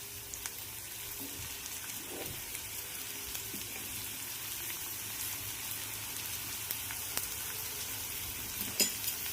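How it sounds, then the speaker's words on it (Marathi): Finely chopped okra and onion are stir-fried in a pan, making a soft, steady sizzle with faint scraping stirs and light pops, quiet and close, with no voices. "आता कांद्यासोबतच मी लगेच बारीक चिरलेली जी भेंडी आहे ती पण परतून घेणार आहे."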